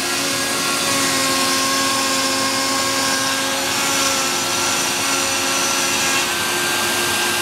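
A Joes Hybrid CNC router cuts MDF parts with a steady, loud whine and droning spindle hum, continuous and unbroken throughout, with no voices.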